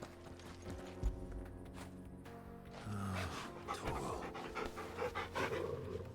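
Panting of the canine companion Torgal in the video game Final Fantasy 16, a steady breathy pant running through the whole stretch alongside soft hoof-like clip-clop and game ambience.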